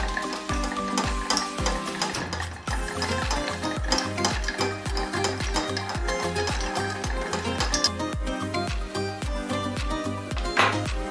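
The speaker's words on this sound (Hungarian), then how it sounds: "Egészet szépen keverjük. 3 percig körülbelül kellene keverni." A mixture being stirred in a pot, with rhythmic repeated scraping strokes against the pot under a steady sizzling frying sound, fairly loud and close, with no voices.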